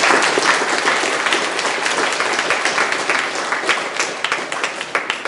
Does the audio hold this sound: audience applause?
yes